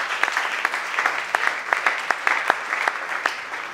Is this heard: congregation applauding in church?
yes